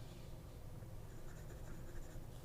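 A Hongdian fountain pen with a very wet, broad-writing nib scratches steadily across paper, a soft continuous close-up rasp with faint fluctuating strokes and no voices.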